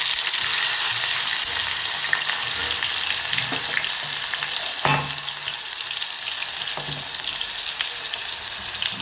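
Tomatoes, green chillies and garlic fry in a pan with a dense, continuous sizzle that stays loud and even, with a few faint clinks of stirring and no voices.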